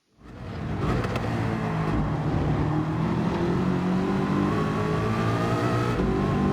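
Race car engine in a racing video game held at full throttle down a straight, a steady loud drone that rises out of silence and stays constant throughout.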